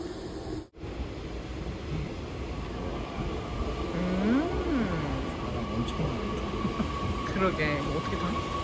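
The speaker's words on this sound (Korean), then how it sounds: "아, 기차" A train passes at moderate distance with a steady rumbling rail roar and a brief rising-falling whine, while people talk over it.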